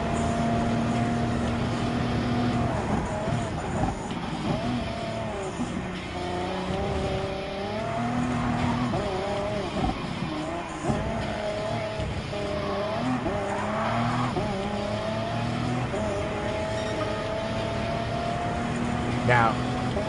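A race car in Gran Turismo Sport drives fast with a continuous engine drone, shifting pitch and squealing tires through corners, while someone talks over it.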